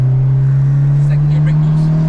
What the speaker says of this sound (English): That was a little brake boost action.